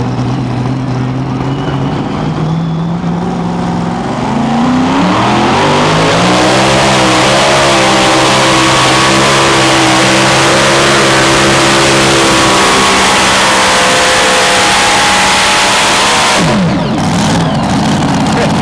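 A modified pulling tractor at a 2,050 lb pro pulling league event in Hillsboro, Wisconsin roars loudly and steadily through a pull, its engine note climbing as it strains down the track, with the din cutting off near the end.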